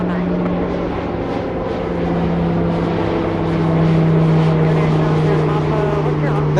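A China Southern Cargo Boeing 777 at Anchorage airport drones with a strong, steady low engine hum and a rushing roar that builds slightly toward the end, a voice speaking over it.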